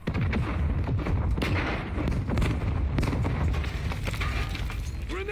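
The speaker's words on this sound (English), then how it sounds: "He got hit by one of my strikes." Sustained low rumbling blasts from airstrikes in the Warzone 2 shooter, a dense barrage of booms rolling on continuously with sharp bursts scattered throughout, loud and unbroken.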